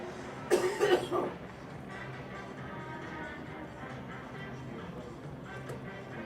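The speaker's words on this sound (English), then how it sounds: "Apologies about the cough." A short burst of close, harsh coughing, two or three hacks, then steady background crowd murmur and commentary-like ambience at a Bradford Bulls versus Hull FC rugby league match.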